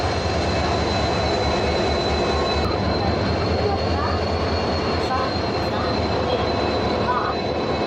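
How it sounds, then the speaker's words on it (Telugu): A WDG4 diesel locomotive stands at a railway station platform, giving off a loud, continuous engine rumble and roar throughout, with no break. "WDG4 diesel locomotive."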